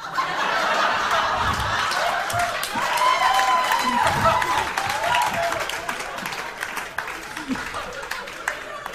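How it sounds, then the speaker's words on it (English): A stand-up comedy audience at a Diane Spencer show breaks into applause mixed with laughter, a steady, fairly loud clatter of clapping that stays constant across the stretch. "take note of which of the men clapped"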